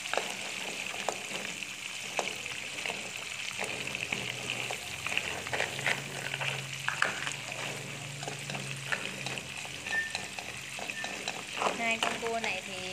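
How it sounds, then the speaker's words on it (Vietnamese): Crab that was briefly fried first is stir-fried with fragrant fried garlic to start a tamarind sauce. A steady, loud sizzle runs with scraping stir strokes while a person talks over it. "Xào với cái phần tỏi chúng ta phi thơm, và chúng ta cho cái phần cua mà chúng ta đã chiên sơ vào"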